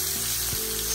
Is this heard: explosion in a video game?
no